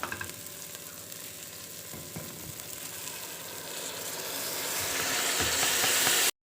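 Rice sizzles and hisses in a pan with garam masala and pilau masala, a steady close frying crackle with a few scraping stirs, growing louder and brighter toward the end.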